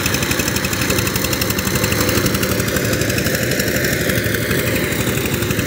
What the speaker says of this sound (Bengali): ইঞ্জিনের সাউন্ড খুবই সুন্দর, 20 ঘোড়া ইঞ্জিন সাইপিং